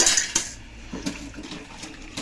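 Dishes washed by hand inside a motorhome: bright clinks and clatters of plates and cutlery, densest at first, then sparser knocks with a little splashing water.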